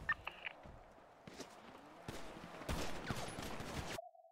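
Gunfire in a GTA roleplay video game shootout with police comes as sporadic shots, then a denser burst of rapid fire near the end, with footsteps and other game sounds around it.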